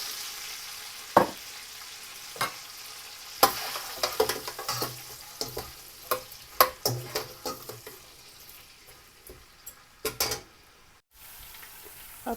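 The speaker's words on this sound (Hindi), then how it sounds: "अब हम इसमें प्याज डाल देंगे, प्याज को ब्राउन कर लेंगे।" Onions browning in a pan with whole garam masala for mutton pulao, giving a soft continuous sizzle punctuated by repeated sharp scrapes and knocks of stirring, close and fairly quiet.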